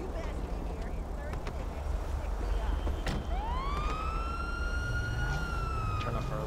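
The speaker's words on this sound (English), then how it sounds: "lights and sirens." Police car siren in GTA V, starting partway through as a rising wail that holds steady and loud over a background of traffic and engine rumble.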